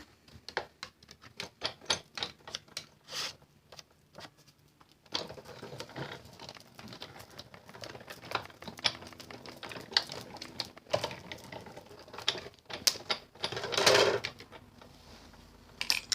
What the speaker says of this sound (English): So I'm just going to run that through my Big Shot